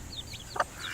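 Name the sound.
young chickens clucking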